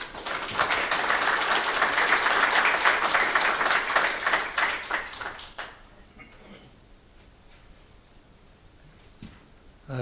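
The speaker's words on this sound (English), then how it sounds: "Big round of applause," Conference audience applauding Nick Kirby, a fairly loud wash of many hands clapping for about five seconds before thinning out into a few scattered claps and quiet room tone.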